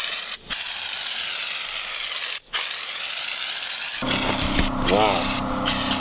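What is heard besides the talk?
spray painting underside of 4WD rock sliders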